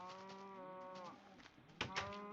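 Minecraft cows moo loudly and close, with a long drawn-out moo first and shorter moos overlapping after it, plus a sharp click partway through.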